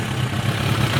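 A 1993 Suzuki GSXR1100 motorcycle engine idles close by, a steady low rumbling throb with even pulsing and no voices.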